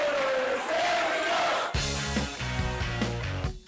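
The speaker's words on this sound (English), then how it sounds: "A crowd of fans cheering for the black and gold." Crowd of Steelers fans cheering at a Pittsburgh bar, a loud dense roar of voices and shouts, joined midway by booming music underneath.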